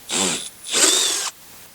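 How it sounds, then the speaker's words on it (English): A 1/2-inch drill bores a large hole through a skid plate on a Traxxas Maxx-style RC truck, two loud whining bursts of drilling separated by a brief pause, close up with no talking. "We're going to take our 1/2-inch drill and just make a big hole right here."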